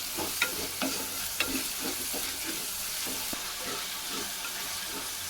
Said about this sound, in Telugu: అల్లం వెల్లుల్లి పేస్ట్ వేసుకొని దీన్ని కాస్త మగ్గే పచ్చివాసన పోయేంత వరకు వేయించుకోవాలి